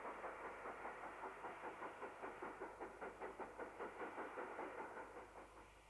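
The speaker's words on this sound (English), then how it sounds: "Britannia Class 70048, the Territorial Army of Aston Shed Birmingham, heads a fast freight to Carlisle" British Rail Britannia Class steam locomotive 70048 hauls a fast freight with a steady, rhythmic chuffing beat that holds constant, then fades slightly toward the end, heard at moderate distance with no voices.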